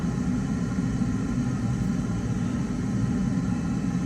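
A video game airplane engine drones loud and steady during takeoff, a low rumbling roar that holds constant throughout with no talking.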